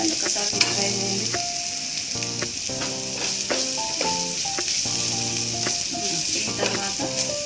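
Cumin seeds and garlic sizzle steadily in hot oil in a pan for restaurant-style jeera rice, with tonal background music and clinking stirs running throughout.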